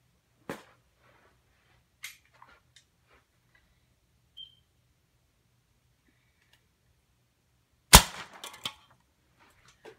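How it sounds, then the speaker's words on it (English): An arrow shot from an 80-pound bow punches through a soft drink can, giving one sharp loud crack followed by a brief clatter, with a few faint ticks and taps scattered before it in otherwise quiet surroundings. "using the same 80 pound bow, now I'm gonna shoot at the soft drink can"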